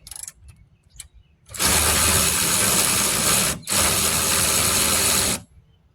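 On a 2009 Hyundai Santa Fe, a power tool whirs loudly for about two long bursts while pulling a fender bolt, with a brief pause between them and a few small clicks before.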